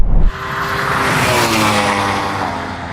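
A Yamaha R1M motorcycle racing past in a drag race against a Ferrari SF90 and Porsche Taycan Turbo GT, a loud, sustained high-revving engine roar that swells and holds steady for a few seconds, close and dominant.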